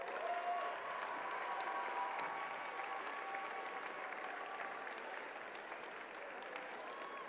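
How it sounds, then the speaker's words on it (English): Sustained audience applause for robotics teams at a FIRST Robotics district event, a steady wash of many hands clapping throughout, fairly distant and even, with a faint murmur of crowd beneath. "Give yourselves a round of applause."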